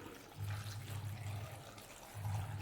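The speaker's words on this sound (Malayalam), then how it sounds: "ഇനി ഇതിലേക്ക് നമുക്കൊരു അര ലിറ്റർ വെള്ളം കൂടി ഒഴിച്ചു കൊടുക്കാം" Half a litre of water poured into a pot of curry with turmeric, chilli powder and kudampuli, a steady close splash that swells twice over a few seconds.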